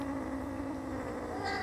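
A male kitten meowing in a garden, a sustained, fairly loud whining cry with a steady wavering tone, close to the listener.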